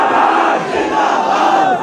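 A large crowd chants a religious slogan in unison in response to a call, a loud, close, sustained roar of many voices shouting together.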